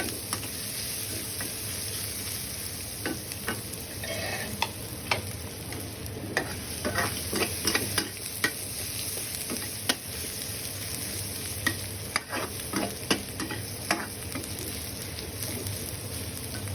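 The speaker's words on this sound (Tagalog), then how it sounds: "Sunod po yung bawang. Lutuin mo natin ito ng kaunti." Garlic fries in a pan with a steady, busy sizzle, with scattered clicks and scrapes of stirring running throughout and no one talking.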